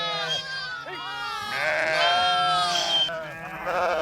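A large flock of sheep gathering inside a netted enclosure, many overlapping bleats, some near and loud and others farther off, forming a continuous chorus.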